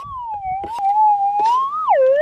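A metal detector's steady electronic tone wavers slightly in pitch over a piece of quartz at an abandoned Australian gold mine, then swoops downward near the end, with a few soft clicks and knocks underneath.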